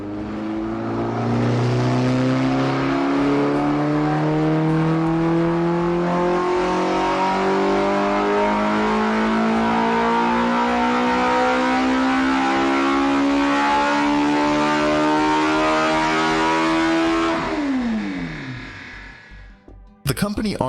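Eisenberg homemade engine, an 88-kilogram build, revs loud and close in one long sustained rising pull, its pitch climbing steadily for about seventeen seconds before dropping sharply and cutting off near the end.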